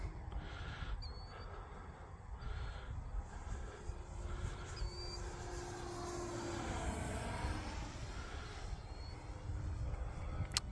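A faint electric model warbird airplane hums overhead at a cricket pitch, its whine rising and falling as it passes, with soft outdoor background noise.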